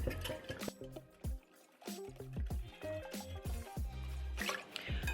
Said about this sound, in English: And I'm gonna give it a good whisk.